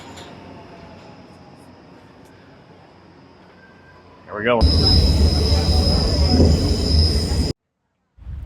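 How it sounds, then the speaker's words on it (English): A metro train rumbles loudly into a Milan subway station with a brief screech of wheels, drowning out the quieter platform murmur, and a voice speaks briefly early on. "we're gonna get on the train right now"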